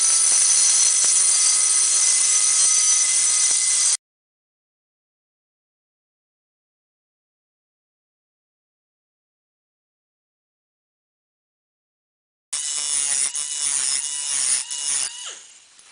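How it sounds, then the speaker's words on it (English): A small pneumatic cutter slices sheet metal for an RC trailer build, a loud, harsh high-pitched buzzing rasp running for several seconds, then a long silence, then another rattling burst of cutting. "pneumatic cutter."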